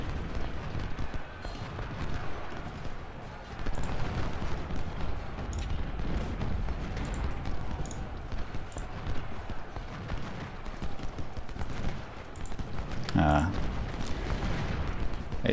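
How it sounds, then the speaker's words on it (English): Cannon fire on a Civil War battlefield in Ultimate General: Civil War, dull booms and crackling volleys rolling beneath a steady din of battle, with one sharper loud report late on and talk over the top. "It's probably the cannon fire"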